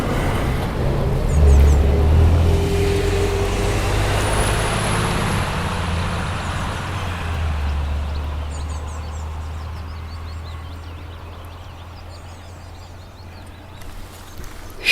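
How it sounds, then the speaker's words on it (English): A distant truck passes along a rural road in Powys, Wales, a low rumbling roar that swells early and slowly fades into quiet countryside air, heard alone without talk. "a truck."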